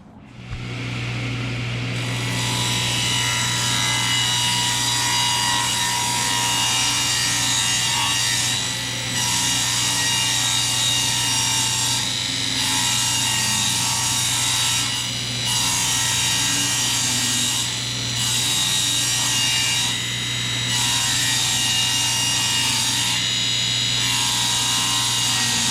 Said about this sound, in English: I'm gonna mill these down right now.